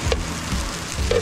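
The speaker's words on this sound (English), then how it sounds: "And just cook the rest of this salmon." Salmon fries in a pan on a beach after a fishing trip, giving a soft steady sizzle with a few brief stirring scrapes, close and alone.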